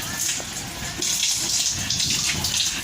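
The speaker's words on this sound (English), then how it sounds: "So now transferring the water to the bottom here" Continuous rushing and gushing of water being pumped from one aquaponics container into another, steady and fairly loud.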